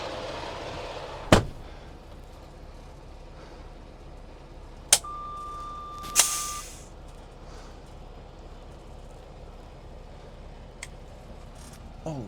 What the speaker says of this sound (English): now we'll just let that slide back and you'll see it lock all by itself.